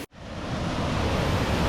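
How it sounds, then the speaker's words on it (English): Waterfall pouring into a pool in Oregon, a steady, full, roaring rush of falling water heard close and loud, constant and broadband after a brief instant of quiet at the start. "Cool waterfall."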